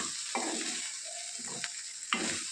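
Small seasonal bitter gourds frying in a pan are stirred with a spoon in three distinct scraping strokes, each a short close rasp over a soft background sizzle, with no talking.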